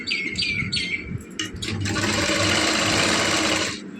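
A sewing machine stitches piping along a kurta. Brief chirpy squeaks and a few short bursts come first, then a steady, fast, close whirring run of stitching that stops abruptly near the end.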